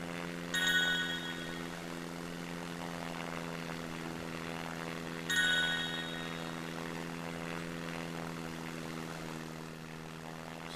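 Plane engine in the SimplePlanes game holding a steady droning hum as it accelerates, with two brief ding-like chimes over the constant tone.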